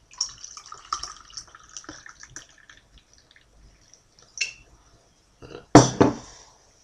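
Bottle-conditioned Wagtail Brewery Nonsuch Strong Ale, 6%, poured into a glass: a run of light trickles and splashes, a brief gap, then a louder splashing pour with a glassy knock near the end.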